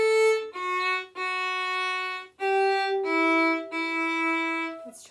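A violin plays the opening phrase of Lightly Row as a beginner's tune, with a series of clear sustained bowed notes that move stepwise in a steady rhythm, heard close and alone.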